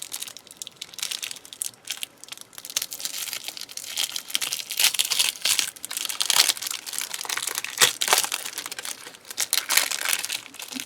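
Old polymer clay dated 2006 being unwrapped from a brittle paper wrapper, giving close, continuous crinkling and crackling with sharp tearing bursts, no talking.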